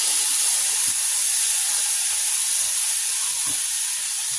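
Peppers and onions hitting hot olive oil in a small, heavy skillet give a loud, steady sizzling hiss that stays close and unbroken throughout, with no voices.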